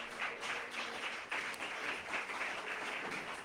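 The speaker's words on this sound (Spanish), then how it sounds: "le ofrendamos al Señor nuestras palmas, un aplauso fuerte" Congregation applause during a church worship service, sustained clapping from a large group at moderate distance, steady and even throughout with no voices.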